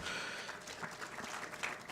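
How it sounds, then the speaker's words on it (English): Steady, broad applause from an audience at a university inauguration ceremony for the 2024/2025 academic year at WSB Merito University in Gdańsk, a continuous dense patter held at even loudness throughout. "please give her a round of applause"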